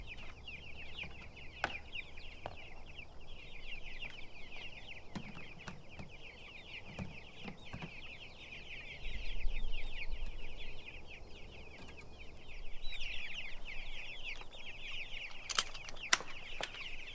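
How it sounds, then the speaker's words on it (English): Laying hens cluck steadily in a busy farm flock, a dense continuous chorus of bird calls with occasional wing flaps and louder bursts, recorded close by with no talking. "letting out and feeding the laying hens and moving the meat birds"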